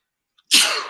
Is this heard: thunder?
no